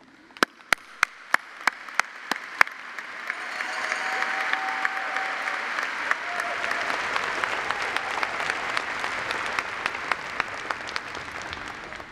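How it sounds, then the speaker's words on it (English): A few separate claps ring out at a veterinary medicine commencement ceremony before the audience swells into steady, moderately distant applause lasting several seconds. "Let's give one more round of applause to the class of 2024."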